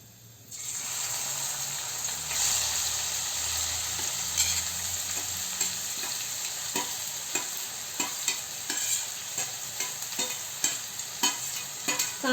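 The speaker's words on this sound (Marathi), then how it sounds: "आता हा चिरलेला कांदा आपण या तेलामध्ये घालून घेऊया।" Finely chopped onions, two large ones, sizzling steadily in hot oil in a home kitchen while being sautéed for a paneer veg dish, with a constant frying hiss and repeated sharp scrapes and taps of a spatula stirring through the pan.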